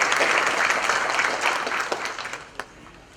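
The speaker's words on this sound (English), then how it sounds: "Let's give him a round of applause." Conference audience applause at a DrupalCon Asia talk, a dense burst of clapping that starts strong and gradually tapers off to a few last claps.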